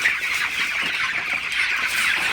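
Broiler chickens clucking in a poultry shed on their seventeenth day, a dense chorus of overlapping clucks and chatter heard close and continuous.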